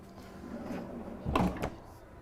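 A freezer drawer in a 2022 Newmar Ventana 4334 motorhome slides and thumps shut in a short, close, soft burst, heard alone in a quiet interior.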